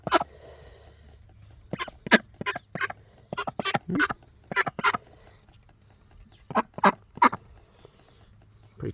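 A pet duck on a New Zealand homestead gives a series of loud, close quacks and honks in bursts: a single call, then a quick run of about a dozen, then three more, with quiet gaps between.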